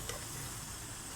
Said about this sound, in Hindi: अब अच्छे से इसको हम भून लेंगे।